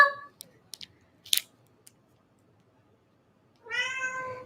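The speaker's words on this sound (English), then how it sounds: "It never fails with Elsa meowing every time I'm filming or recording." A cat meows once near the start and again at the end, with a few small clicks and snips in the quiet between.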